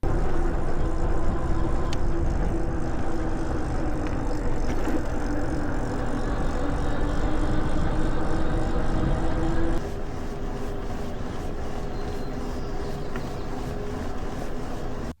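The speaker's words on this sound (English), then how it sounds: "the motor does make some noise. It's not bad, but you'll definitely hear it, especially when you're using just the throttle" A VanPowers GrandTeton-Pro e-bike motor runs on throttle alone, a steady electric whine over road and wind rumble that softens slightly partway through.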